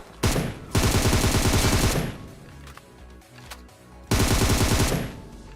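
An M249 machine gun fires in a video game, with two loud, sustained bursts of rapid automatic fire and a quieter stretch of scattered shots and game noise between them.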